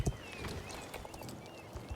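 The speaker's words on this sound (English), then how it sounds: "We've got this paddock with horses walking around." Horses walking around a paddock in the video game Star Stable, with soft, steady hoof clip-clops heard at moderate distance over ambient game sound, and no talk.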